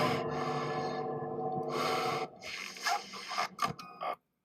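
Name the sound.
heavy breathing in video game FNAF 2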